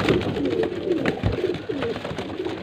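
Flying pigeons offered for sale in Faisalabad coo close by, a soft throaty burbling that rises and falls in overlapping calls over low background noise.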